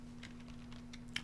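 Soft keystrokes on a computer keyboard while typing a message into a terminal chat app, a few faint quick taps over a low steady hum.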